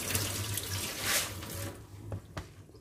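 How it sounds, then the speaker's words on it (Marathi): Water poured off soaked rice and fenugreek seeds in a kitchen: a short, quiet splashing pour that trickles away, with a faint drip at the end. "तर आता ह्याचं वरचं पाणी काढून टाकते"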